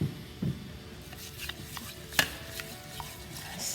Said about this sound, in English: So we're gonna stir this for about 1 to 2 minutes to dissolve the salt.